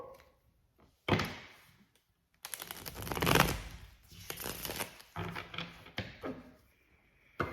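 Tarot cards being shuffled and riffled in several short bursts, close and crisp, with brief pauses and light thumps between.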